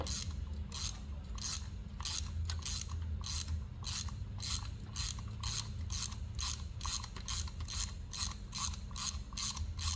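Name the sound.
ratchet removing spark plug from 2012 Ford Escape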